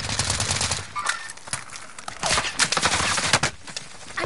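Video game gunfire during a house assault: rapid bursts of automatic shots and single cracks, close and loud, in irregular clusters throughout.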